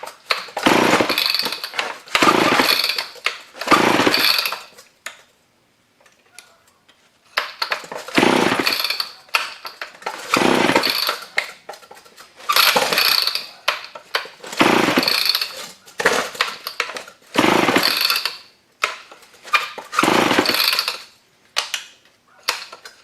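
A scrap chainsaw on half choke gets pulled over and over, each recoil pull a loud rasping burst lasting about a second, repeated roughly a dozen times with short gaps but no sustained running.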